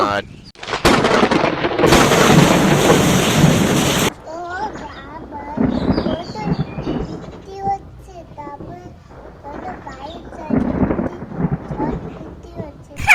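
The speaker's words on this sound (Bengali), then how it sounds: "খুব ঝড় বৃষ্টি হচ্ছে" Heavy wind-driven roar with rumbling bursts, like a thunderstorm with rain, loud at first then easing as voices talk over the storm noise.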